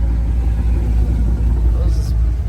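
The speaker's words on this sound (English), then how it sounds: "Oh, there's another car." A car rumbles past on a flooded road near a bridge, a loud close low engine drone lasting a couple of seconds with a brief splash-like hiss near the end.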